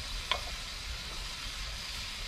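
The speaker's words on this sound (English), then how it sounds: "they'll cook like regular hamburgers in a frying pan." Steady, soft sizzling of hamburgers frying in a pan on a rocket stove, a continuous crackling hiss with one faint tick early on, no voices.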